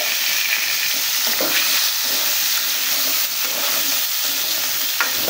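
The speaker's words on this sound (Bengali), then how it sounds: "এখন আমি আলু কেটে রেখেছিলাম, সেগুলো একটু ভেজে নেব।" Cut potatoes frying in a pan for a broiler chicken curry, with a steady loud sizzle and hiss running throughout and occasional stirring scrapes.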